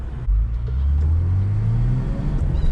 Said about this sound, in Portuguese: Mas olha que ronquinho gostoso que tem esse motor 6 caneco